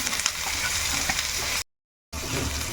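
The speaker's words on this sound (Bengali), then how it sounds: "এখন কিছু পেঁয়াজ কুচিগুলো এর মধ্যে দিয়ে দেবো পেঁয়াজ কুচিগুলো একটু লাল লাল করে ভেজে" Chopped onions fry in hot oil in a pan, a steady close sizzle with occasional stirring clatter, broken by a short silent gap before the frying resumes.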